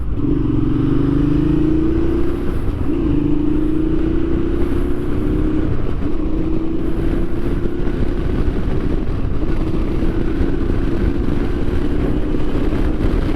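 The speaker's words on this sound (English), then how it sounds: "see how I let off the clutch very slowly" A motorcycle engine hums steadily and loudly up close, its pitch rising gradually as the clutch is released slowly and the bike pulls away, holding a continuous drone throughout.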